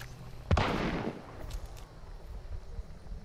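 A single loud shotgun blast goes off in Hunt: Showdown, followed by a rolling echo that fades over a couple of seconds, with faint movement noises after.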